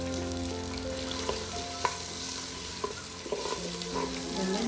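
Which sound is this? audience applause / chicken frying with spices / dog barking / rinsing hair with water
chicken frying with spices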